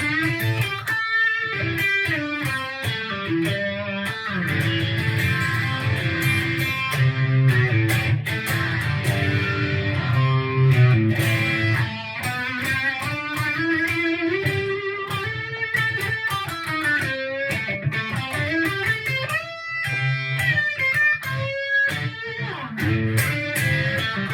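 Electric guitar with amp overdrive through a Boss PH-1R phaser pedal, a swirling, sweeping effect, playing chords and riffs continuously and fairly loud.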